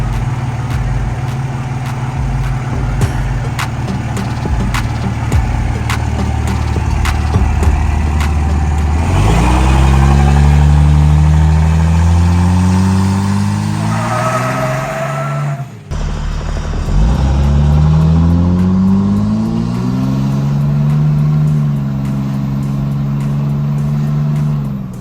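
A 2005 Dodge Cummins 5.9 diesel pickup idles, then accelerates hard twice, its low engine note climbing through the gears in a loud rising drone, with a brief drop between the two pulls.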